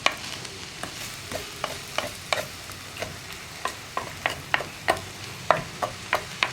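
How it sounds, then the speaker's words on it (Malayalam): Coconut flower stir-fry (thengin chotta thoran) being stirred in a clay pot, with a steady run of short, sharp scraping clicks at a regular pace over a low sizzle. "മൺചട്ടി ആയതുകൊണ്ട് നമ്മൾ ഇളക്കി കൊടുത്തുകൊണ്ടിരിക്കണം, ചട്ടിയുടെ അടിയിൽ പിടിക്കരുത്."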